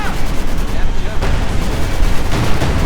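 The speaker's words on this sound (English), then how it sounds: "Another shot bounces off the frontal armour." Tank guns fire in a Company of Heroes 2 battle between an IS-2 and a Panzer IV, dense continuous booming and rumbling gunfire with loud sharp impacts throughout.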